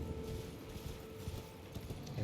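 Rapid, rhythmic hoofbeats of a horse galloping in Elden Ring, a quick steady clip-clop carrying through the whole stretch at moderate volume with no talk over it.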